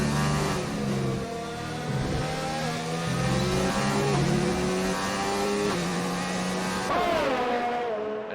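A Renault-powered race car engine in an Xbox racing game during a battle for second place, revving loudly with steady rising and falling gear-change pitch sweeps, close and continuous with no pauses.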